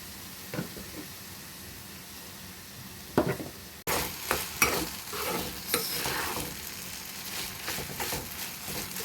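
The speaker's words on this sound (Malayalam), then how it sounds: "ഇനി നമുക്കിതിലേക്ക് സേമിയ ചേർത്ത് കൊടുക്കാം" Cooked vermicelli being stirred into onions fried in ghee in a pan, giving a steady sizzle with scraping spoon strokes that grow busier after a sharp jump partway through.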